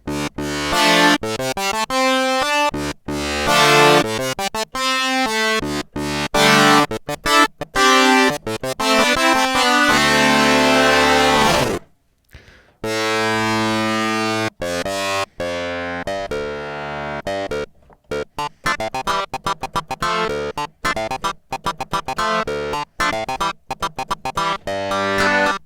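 Arturia MiniFreak synthesizer playing its Karplus Strong oscillator alone, a rapid run of plucked string-like tones in quick bursts, then longer held pitches with shifting metallic overtones, loud and busy with short gaps and no voices.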